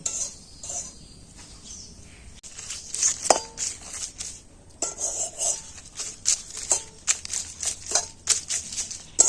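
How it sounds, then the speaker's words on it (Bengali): Dry ingredients for homemade black toothpaste being roasted in a dry pan, with scraping and stirring clatter from a utensil against the metal arriving in irregular bursts, moderately close and with no talk. "আস্তে আস্তে শুকনো খোলায় সেরকম করে এটাকে ভেজে নেব"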